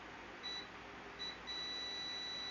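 Multimeter continuity tester probing an Acer Swift SF514-51 laptop motherboard, giving a thin, high-pitched electronic beep twice briefly and then holding a sustained tone over quiet background hiss.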